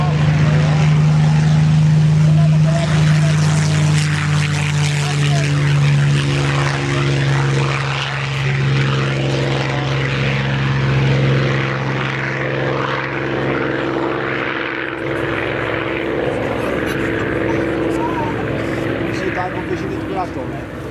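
A Supermarine Spitfire Mk.XVIe propeller aircraft drones loudly and continuously during a memorial flight, its steady engine tone holding strong and near throughout, with a voice speaking over it.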